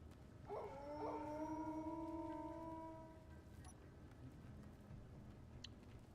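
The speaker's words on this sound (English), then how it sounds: "I'm guessing those wolves are for me." Wolves howl in a video game during a hailstorm, several long overlapping howls rising together and then fading, distant and faint.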